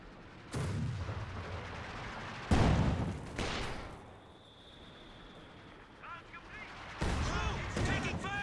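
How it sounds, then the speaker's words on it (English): Heavy 120mm mortar fire booms in a Company of Heroes 2 battle, with several loud deep blasts spaced apart and crackling debris and distant gunfire between them. "120mm mortar now engaging."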